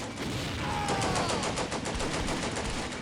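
Gunfire in the Combat Mission Beyond Overlord war game, a continuous rattle of machine-gun bursts and rifle shots blending into a dense, sustained fusillade, moderately loud with no voices.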